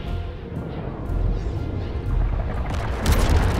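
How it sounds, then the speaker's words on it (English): Earth cracking apart in the Fortnite end event: a deep, continuous rumbling boom with gritty crackle, swelling into a louder burst near the end, steady and heavy throughout without any voices. "Cracked the earth again."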